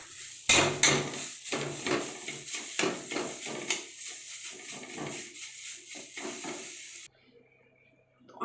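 Prawn head paste stirred in a hot wok with no oil, metal utensil scraping and clattering against the pan in quick repeated strokes with a faint sizzle, close and fairly loud, then stopping abruptly.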